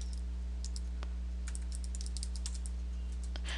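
VBA macro code is typed on a computer keyboard in quick, close, light clicks and taps, set over a steady low electrical hum.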